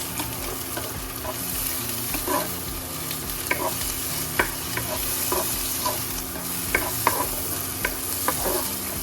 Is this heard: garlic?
yes